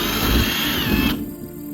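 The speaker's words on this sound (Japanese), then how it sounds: "こちらの方はドリルで穴を2箇所開けます。" A power drill bores into a model railway diorama board, a close, loud whirring burst that cuts off abruptly near the end.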